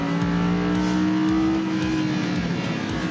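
A car accelerating out of a chicane on a track, its engine loud and close, pulling hard with a steady high whine that drops at a shift and then climbs again, no talk over it.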